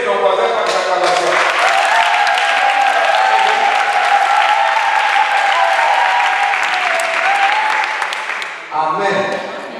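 A church congregation applauds and cheers, dense clapping with voices calling out over it, holding steady for several seconds before dropping away as a speaker resumes.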